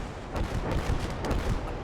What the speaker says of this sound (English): Our rocket artillery strike is quite a success for Benji.